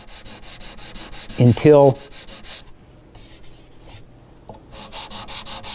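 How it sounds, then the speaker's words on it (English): Level sanding of a guitar's finish by hand, rhythmic close scratchy back-and-forth strokes, briefly broken by a single spoken word and a short pause before resuming. "And then I'm going to level sand that"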